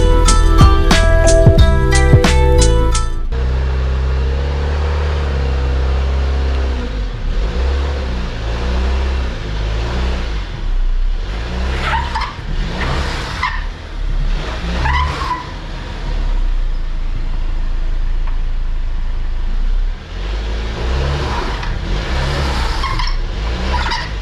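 Jeep Rubicon in two-wheel high spinning its wheels on a steep drive, a loud sustained engine roar with revving surges and tire slip noise rising and falling, following a brief burst of music at the start.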